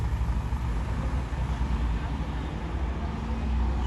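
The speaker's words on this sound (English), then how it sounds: "I think my bus is just coming over there in the distance." A number 408 bus bound for Medano approaches from a distance on a Tenerife road, a low steady engine rumble mixed with traffic noise, fairly constant and not yet close.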